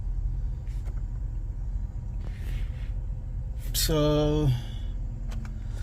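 Low road rumble fills the cabin of a Pontiac Grand Prix GXP as it drives, steady and continuous, with a short tonal squeal near the middle and someone briefly speaking over it.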